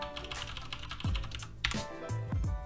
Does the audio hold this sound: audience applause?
no